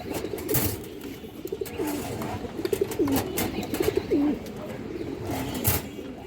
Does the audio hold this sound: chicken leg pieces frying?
no